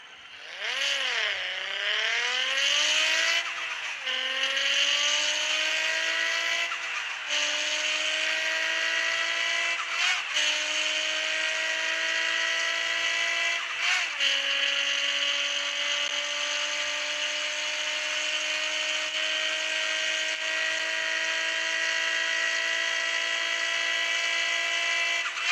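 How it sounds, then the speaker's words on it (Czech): Turbocharged car with twin exhaust pipes revs and pulls through several gears, a loud, close, high-pitched engine whine with a turbo note that climbs, dips briefly at each gear change, then holds a sustained drone, with no voices. "ukážu vám, jak to jezdí i s tím turbem, i s tím vejfukem"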